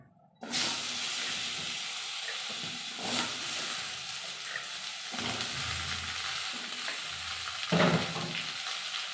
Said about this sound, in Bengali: তো কড়াইয়ের ওই তেলে কেটে রাখা আলু